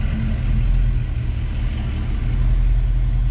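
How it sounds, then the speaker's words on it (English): Supercharged VMP truck with a damaged transfer case, a steady low engine drone and mechanical rumble heard up close and continuous, with no voices over it. "just so you can hear the noises the truck's making"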